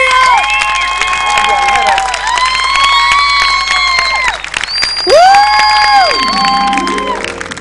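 A studio audience at a Turkish television entertainment show claps and cheers while loud music plays over the crowd noise, with shouts rising near the end.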